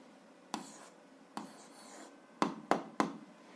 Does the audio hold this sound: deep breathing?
no